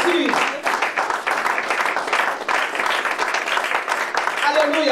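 Congregation at a French-language church service applauding to acclaim Jesus, a loud, sustained wash of many hands clapping together with some crowd voices mixed in, steady for several seconds.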